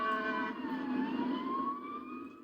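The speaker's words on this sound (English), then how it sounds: "Sirens sounded again in Leitchfield tonight." Fire truck sirens wailing through Leitchfield, Kentucky at night during a fire, a rising and falling tone heard from a moderate distance that holds steady for the whole stretch and fades slightly toward the end, with no voices.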